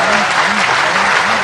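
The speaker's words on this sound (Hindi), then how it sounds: "ताकत के साथ ताली बजाकर उसका समर्थन करिए" Dense, loud applause from a crowd at a political rally with the Chief Minister, continuous clapping filling the whole moment with no break.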